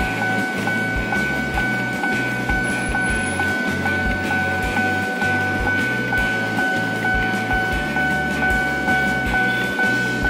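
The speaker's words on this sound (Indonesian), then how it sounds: "Kereta barang." A freight train rolls past at night in Jakarta with a continuous loud rumble and a regular clatter of wheels over rail joints, while a steady tone hums through the passing.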